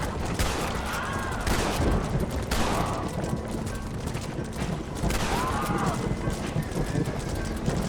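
Gunshots in the video game Red Dead Redemption, scattered bursts of fire mixed with hoofbeats of galloping horses, fairly loud, with voices talking over parts of it.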